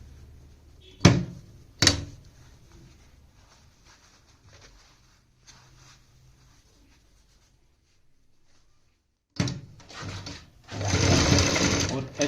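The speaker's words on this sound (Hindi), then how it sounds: "और ऐसे यहाँ पे बिल्कुल बराबर मार्जिन लेते हुए अब हमें लगानी है सिलाई।" Sewing machine stitching a suit collar, two brief whirring bursts early, a quiet stretch, then longer runs of rapid stitching near the end, close and clear, with a voice speaking in between.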